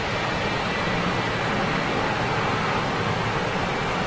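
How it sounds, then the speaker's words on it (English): A jet airliner powered by Rolls-Royce RB211 engines on approach at LAX: a steady, loud, broadband roar that holds evenly throughout, with no voices over it. "Listen to the beautiful tones of those RB211s."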